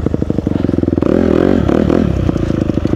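A 2019 Honda CRF250R dirt bike rides on a dirt trail near Murphy, Idaho, its engine loud and close with a rapid pulsing putter that swells into a steady revving drone midway, then returns to choppy throttle bursts.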